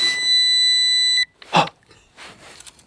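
An Aerium SG108 GPS Max drone gives off a loud, steady electronic beep of about a second and a quarter, followed by a short sharp click and some faint handling noise.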